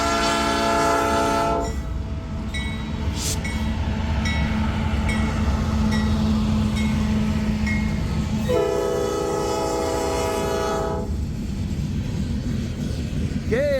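A coal freight train rumbles past steadily and close, with a long loud horn blast at the start and another a few seconds later, then a squeal, the continuous roll of railcars filling the whole stretch.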